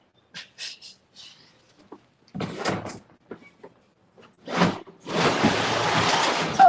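Truck door opened and closed, a series of clicks, handle rattles and thumps followed by a long burst of broadband rustling noise, with no talking.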